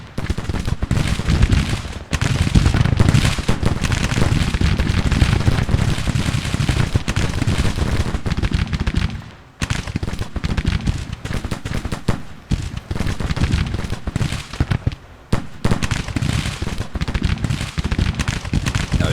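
Rifle volleys from Civil War infantry in Grand Tactician: The Civil War, dense crackling gunfire in rapid ragged bursts with a few brief lulls, heavy and continuous.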